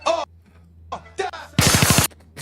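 Burst of rapid gunshots at the tail of a played song, a quick loud rattle of about five shots following a few short vocal fragments.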